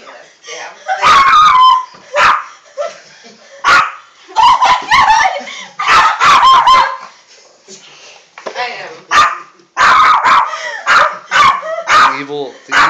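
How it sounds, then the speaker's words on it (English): A dog barks, yips and whimpers close by in repeated bursts with short pauses between them. The bursts are loud and sharp, and a person's voice breaks in now and then. "The evil dog with the glowing eyes."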